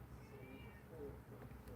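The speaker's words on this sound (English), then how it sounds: "I hear my cat." A cat meows somewhere outside, faint and distant, its short cries drifting over a low background hum.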